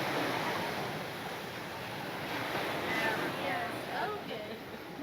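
Surf washes steadily onto a small beach in Aruba, a soft continuous roar of breaking waves with some wind buffeting, heard from nearby without speech.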